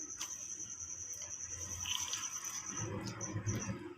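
Water-soaked fried pakoras for papdi chaat are squeezed firmly between two hands, giving soft wet squelches and drips over a quiet kitchen background with a faint steady whine.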